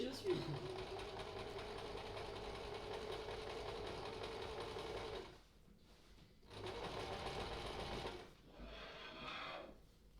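A sewing machine stitches a detachable Osaka collar. Its quiet, steady motor hum runs for about five seconds, pauses, then comes back in two shorter bursts, with a voice talking softly alongside.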